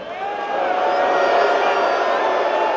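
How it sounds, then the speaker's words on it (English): A rowdy wrestling crowd at a WWE event in Boston roars and cheers loudly and continuously, a dense wall of voices and whoops that swells slightly and holds steady throughout. "We got a rowdy crowd here tonight."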